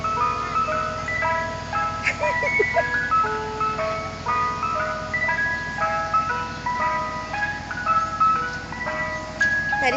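A Mister Softee ice cream truck plays its tinkling chime melody in repeated phrases over a low idling engine rumble, moderately near and steady for the whole stretch.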